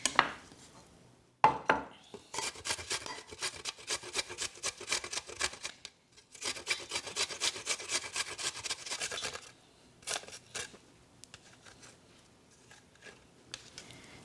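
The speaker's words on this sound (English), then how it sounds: "Whenever I do a potato dish, I also like to add a little bit of ginger, and I'm going to grate that straight in." Fresh ginger, about a 3 cm piece, is rubbed against a grater straight into a potato mixture for aloo tikki: close, rapid rasping strokes come in long bursts with short pauses between them, and no one speaks.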